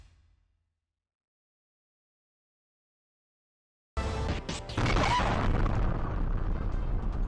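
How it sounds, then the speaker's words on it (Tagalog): A restaurant explosion in China: after four seconds of silence a sudden loud, broadband blast erupts, followed by sustained roaring rumble and crashing debris noise that stays loud to the end. "Niyanig ng malakas sa pagsabog ang bahaging yan ng China."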